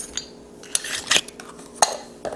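Clinks and scrapes of a utensil against a mixing bowl while low-carb breakfast bomb ingredients, seasoned with garlic powder, are stirred together; a few sharp taps stand out over softer scraping, close up and without talk.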